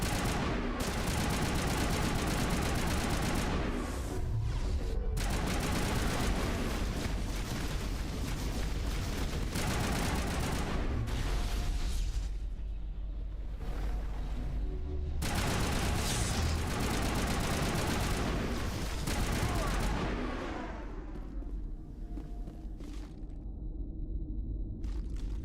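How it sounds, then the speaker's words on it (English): Rapid bursts of gunfire crackle from a Mass Effect firefight, dense and loud for stretches, then cutting off briefly before resuming, with quieter gaps near the end. "they're just shooting at the wall"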